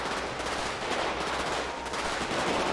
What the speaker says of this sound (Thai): เกือบโดนยิงตาย ยิงยากนะเนี่ย